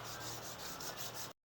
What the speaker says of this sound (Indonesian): Kita lakukan juga pengamplasan